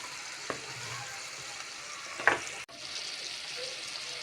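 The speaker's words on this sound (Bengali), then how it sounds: "দিয়ে দিলাম গরম পানি।" Hot water poured into a pan of chicken masala that has been frying until the oil separated, giving a soft, steady sizzle with a brief splash and a clunk partway through.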